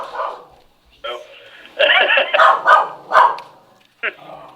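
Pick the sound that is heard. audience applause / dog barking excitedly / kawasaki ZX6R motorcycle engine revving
dog barking excitedly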